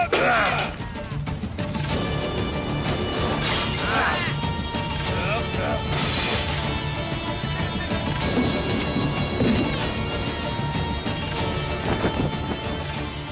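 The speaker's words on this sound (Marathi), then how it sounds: "सगळं सामान तोडून टाका, तोडून टाका सगळं सामान." Belongings being smashed and broken during a violent raid in a Marathi TV drama, with repeated crashes and thuds over rain-like noise and clatter, people shouting throughout.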